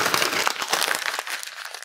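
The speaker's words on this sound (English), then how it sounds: "crumple it up, and place it into your watershed bin" Paper, either newspaper or white recycling paper, is crumpled into a ball by hand in a classroom, giving a continuous close crinkling and crackling that runs alone for about two seconds.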